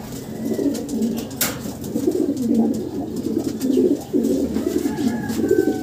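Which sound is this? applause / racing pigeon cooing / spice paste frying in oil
racing pigeon cooing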